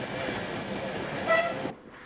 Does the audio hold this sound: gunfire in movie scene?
no